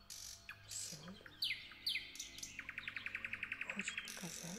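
Birds chirp and sing nearby: sharp tweets, descending whistles and a fast, regular trill of repeated notes, with no talking.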